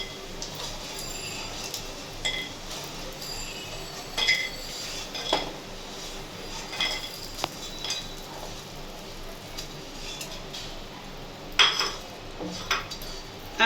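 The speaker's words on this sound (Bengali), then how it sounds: "এবার বড়িগুলো আমি অন্য একটা পাত্রে তুলে নেব।" Fried lentil dumplings being lifted out of a pan into another pot in a home kitchen, with repeated light clinks and scrapes of utensil on metal, close and intermittent over a quiet background.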